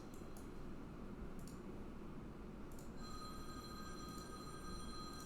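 A phone rings in another room, its repeated bright tonal bursts sounding faint and distant over a steady low background hum, with no voices.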